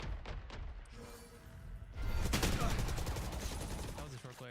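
Rapid gunfire from a favored gun in a streamed video game, starting with sparse shots and swelling into a loud sustained burst after a couple of seconds, with voices and game sounds mixed in.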